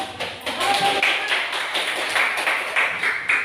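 Classroom clapping in an Indonesian school lesson, a run of sharp hand claps from a group of pupils, fairly close and steady throughout with no one speaking over it.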